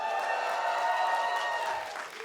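A large crowd at an esports event in Nottingham cheers and applauds steadily, a dense wash of clapping and voices that eases slightly toward the end.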